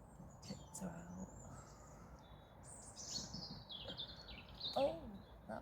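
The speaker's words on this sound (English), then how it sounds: "Those are finches." Finches chirping outdoors, a scatter of thin high tweets and short trills at moderate distance, soft and intermittent over quiet background hiss.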